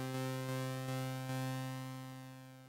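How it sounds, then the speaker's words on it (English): Arturia synth playing a thick ultra-saw patch of stacked, slightly detuned sawtooth waves: a sustained bright buzzing tone with rich harmonics, held steady and slowly fading, with faint retriggered pulses along the way. "an option up top to do an ultra saw"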